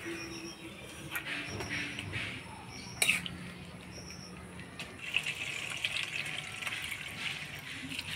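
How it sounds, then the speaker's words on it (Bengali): Tap water runs steadily while dried shrimp are rinsed clean by hand, a moderate continuous gush with brief splashes and knocks, no voices. "এবার শুটকি মাছটা পরিষ্কার করে ধুয়ে নেব।"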